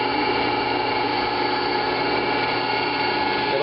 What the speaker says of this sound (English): so we'll do it on the drill press.